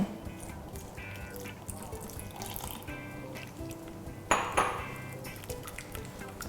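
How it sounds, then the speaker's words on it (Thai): A spoon or whisk is stirred vigorously through crepe batter of flour and milk in a bowl, giving soft scraping and light clinks against the bowl, with one sharper clatter near the end. "คนให้แป้ง เข้ากับนมก่อนนะคะ คนแรงๆหน่อย"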